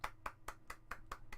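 Guests at an online lockdown house party clap in a steady run of about seven sharp, evenly spaced claps, close to the microphone and with no talking.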